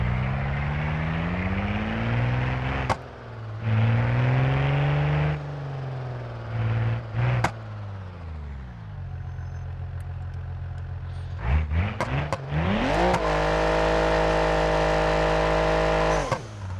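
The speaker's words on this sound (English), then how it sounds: "For a DeLorean, that is an impressive burnout." A DeLorean in the BeamNG.Drive driving game performs a burnout, its loud engine revving and surging in sustained waves, cutting out briefly, then climbing back to a high, steady scream, with no talking.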